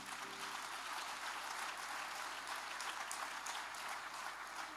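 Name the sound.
congregation applauding in church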